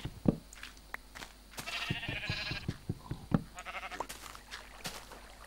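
Sheep bleat in the Minecraft video game, several short nasal calls in a row over a soft background, fairly clear and close.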